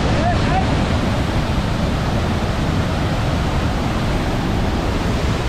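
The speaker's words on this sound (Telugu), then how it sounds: "వాటర్ ఫాల్స్ సౌండ్ చూసారు ఎట్లా వస్తుందో" Roaring Hogenakkal waterfall on the Kaveri river, a loud, steady broadband rush of falling water that fills the whole scene without pause, with no voices heard.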